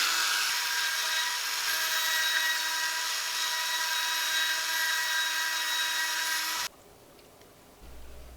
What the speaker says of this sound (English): More slots to Dremel.